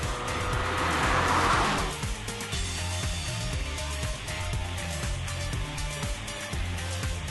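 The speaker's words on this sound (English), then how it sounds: "it has that bordering on antisocial Subaru rumble to it, which just gets better as you accelerate" A Subaru BRZ, naturally aspirated with no turbo, rumbles through its engine and exhaust while accelerating, a low rhythmic throb that swells early, then settles into a steady growl at moderate loudness.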